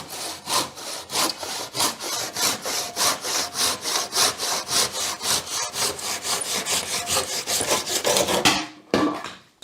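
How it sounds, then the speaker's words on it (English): Handsaw cutting along the top of a wooden post, a steady rhythm of rasping back-and-forth strokes, close and loud, running for several seconds before stopping abruptly. "Obviously you just need to run along the top of that with a handsaw."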